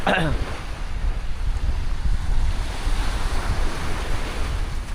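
Ocean waves wash steadily onto a seashore, a continuous broad roar of surf with wind buffeting the microphone, loud and close throughout with no break.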